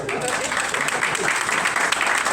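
Church congregation applauding during a Spanish-language worship service, a steady dense wash of clapping with voices mixed in throughout.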